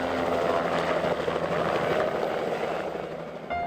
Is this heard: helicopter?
yes